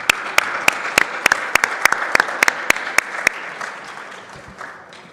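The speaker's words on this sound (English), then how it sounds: "ask you for a round of applause for everybody" An audience at a workshop session of a regional forum gives a round of applause, with a few sharp individual claps standing out over a steady wash of clapping that fades toward the end.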